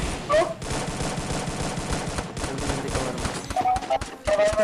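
Rapid automatic gunfire in the mobile battle game Garena Free Fire, a dense stream of close, sharp shots with short gaps, and a voice calling out briefly beneath it.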